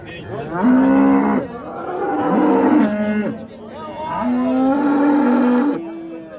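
At a cattle market in Besharik, a pregnant cow lets out two long, loud moos close by, with a pause between them and faint crowd noise around.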